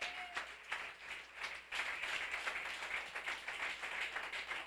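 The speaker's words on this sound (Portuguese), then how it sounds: "Você pode aplaudir o Senhor mais uma vez." At a church anniversary service the congregation applauds the Lord, a full, steady wash of clapping that briefly dips before resuming strongly, heard at a moderate distance.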